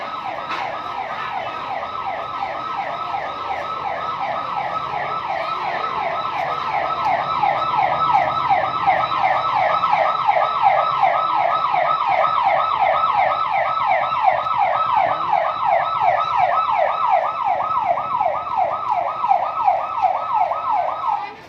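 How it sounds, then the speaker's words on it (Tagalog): A wailing ambulance siren cycles rapidly and steadily for a long stretch, loud and close, growing slightly louder before cutting off abruptly. "Ambulansya ito, no?"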